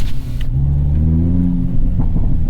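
A prototype 2022 Hyundai Elantra N sedan revs its engine on the move, a deep, loud, close rumble with rising and falling engine tones held steadily throughout, with no talking.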